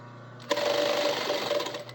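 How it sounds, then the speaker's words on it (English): Sewing machine stitching a straight row for pleats, starting abruptly after a short quiet lead-in and then running steadily and close by with a continuous whirring hum that eases slightly near the end. "So it's just a straight row stitching."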